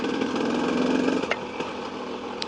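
A KTM 250 EXC enduro motorcycle idles in neutral nearby, a steady buzzing engine note with a few faint clicks and knocks.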